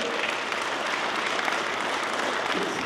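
A town hall crowd in Gresham, Oregon breaks into sustained applause, dense and steady from start to finish with no voices standing out.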